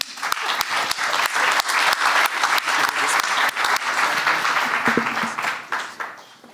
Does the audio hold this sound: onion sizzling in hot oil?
no